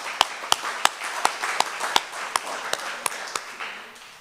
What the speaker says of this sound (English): Should we clap on that?